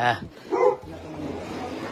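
Dogs bark at a mansion compound: a quick bark at the start and another burst about half a second later, fairly close, with someone talking through and after the barks.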